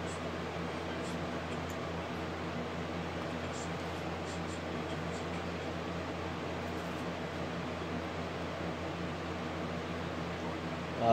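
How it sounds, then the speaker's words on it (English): A fan runs as a faint, steady broadband whoosh in a room near a game console, unchanging throughout. "Sorry for the fan noise."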